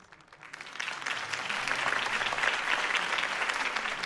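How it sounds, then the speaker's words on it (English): Applause from a crowd at a campaign speech in the Batman Telltale video game, a dense wash of clapping that swells after the first second and stays steady and fairly loud to the end. "could have heard that applause"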